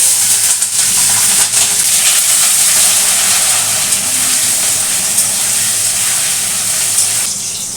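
Nigella seeds and green chilies tempering in hot oil for a hilsa fish curry, giving a loud, continuous sizzling hiss that holds steady throughout and eases slightly at the end, with no voices.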